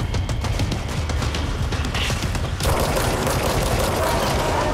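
Gunfire in the game Control, rapid sharp shots in a dense burst during combat, followed by a noisier stretch of impacts and action sounds; no talk.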